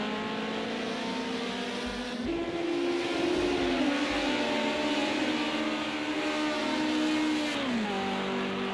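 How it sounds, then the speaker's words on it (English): BMW 2002 race car on the Oschersleben B circuit, its engine screaming at high revs and repeatedly bouncing off the rev limiter in fourth gear, a loud, sustained buzzing drone with stepped pitch changes as it passes. "On the rev limiter in the fourth."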